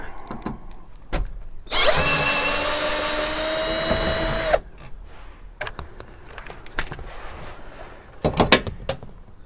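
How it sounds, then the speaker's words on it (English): An electric screwdriver whirs steadily for about three seconds while removing a rear headrest bracket on a Jeep Wrangler JKU. Loud and close, it is framed by sharp clicks and clatter of parts before and after. "Electric screwdriver will be much easier."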